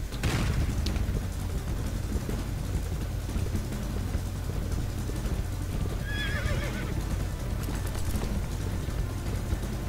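Horses gallop with rapid clip-clop hooves and a loud whinny early on in the Western video game Dead Man's Hand, set over a steady rumbling background with faint distant booms.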